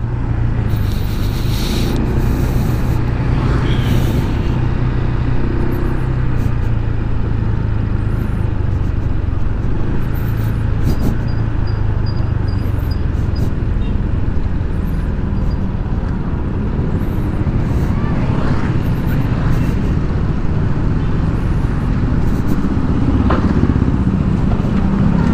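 Steady road traffic near an exit toward National Road: a continuous close engine rumble with motorcycles and cars passing and occasional higher whines, no talk.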